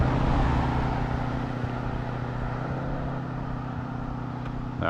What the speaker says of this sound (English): That was a nice old car.